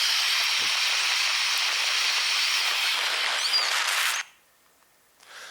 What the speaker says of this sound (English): So this is a little geothermal vent near Krafla volcano, and you get a sense it's steaming away permanently.